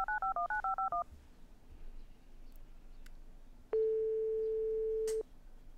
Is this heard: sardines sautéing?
no